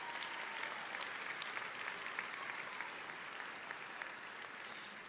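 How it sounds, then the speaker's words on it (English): A commencement audience gives the platform party a round of applause, a sustained even wash of many hands clapping at a distance, fairly quiet and unbroken for about five seconds. "Please join me in a round of applause for the members of the Platform Party"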